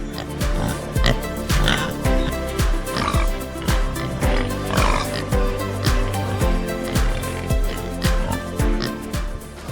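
Pigs oinking while being transported in a temperature-controlled, ventilated vehicle, with repeated grunts and squeals in a steady, busy rhythm throughout and no talking.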